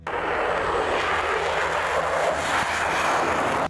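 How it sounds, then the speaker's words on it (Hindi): Russian bomber aircraft fly overhead during a military exercise: a loud, continuous, even engine roar with a broad rushing hiss that holds steady throughout, with no speech. "रूस के बम बरसाने वाले विमान भी शामिल हुए"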